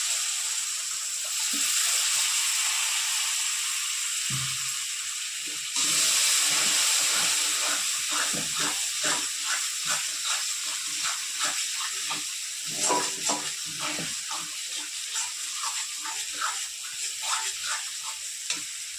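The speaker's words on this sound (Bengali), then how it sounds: "মশানোর জন্য সামান্য পরিমাণ আমি একটু জল অ্যাড করব যাতে মশলাটা তলায় লেগে না যায়" Water is poured onto spice paste frying in a pan for a Kashmiri dum aloo with green peas. A loud hiss and steaming burst gives way to close, bubbling, spattering sizzles and stirring.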